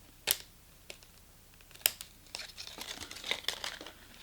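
PET plastic crinkling and crackling while being cut with scissors, with quiet, irregular snips and rustles and a few sharper crackles, close up and faint, with no talking.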